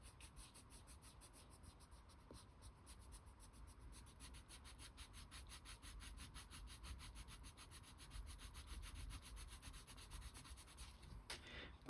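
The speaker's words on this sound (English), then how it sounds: "really burnishing with this marigold because it's quite yellow" Marigold-yellow coloured pencil burnishing on paper, a very quiet, steady, rhythmic scratching and rubbing of firm back-and-forth strokes, close to the microphone, continuing throughout.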